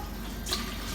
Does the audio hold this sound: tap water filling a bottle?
yes